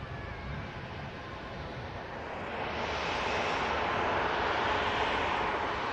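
An EasyJet airliner taking off and climbing out at Manchester Airport, heard as a broad, steady jet roar that swells louder partway through and holds, fairly distant, with no talking.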